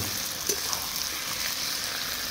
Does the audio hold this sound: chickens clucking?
no